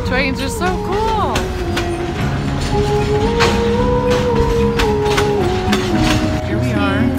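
A train rumbles past close by with a steady roar, squealing metallic wheel tones and rattling clatter throughout.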